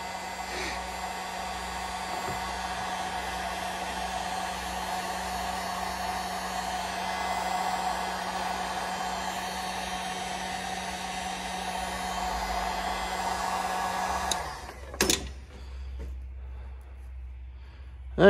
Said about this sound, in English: Let's take and heat that up a little bit more.